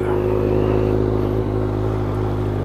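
A motorcycle with a straight-through metal exhaust idling close by, a loud, steady, throaty rumble with an even low pulse and no talking.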